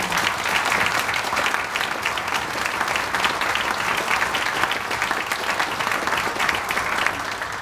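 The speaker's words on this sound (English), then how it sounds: "let's give them a huge round of applause for their music." Audience applause at a secularist award event, a dense, even roar of clapping from a large crowd, sustained at steady loudness for the whole stretch.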